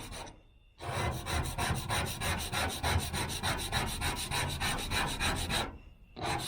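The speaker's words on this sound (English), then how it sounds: "I'm just going to scrape it all off because I'm afraid that's just embedded rust or something." A razor blade scrapes embedded rust and black residue off the metal of a 1978 V8 Nova hot rod in rapid, rhythmic back-and-forth strokes, loud and close, with brief pauses at the start and end.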